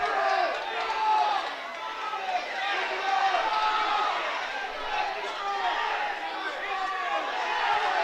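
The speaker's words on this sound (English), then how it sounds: "Crowd is into it." Crowd in a gym at a high school wrestling match, Fairfield Mules against Mt Carmel Aces, cheering and shouting steadily with a dense, loud roar of many voices that carries through the whole clip without letting up.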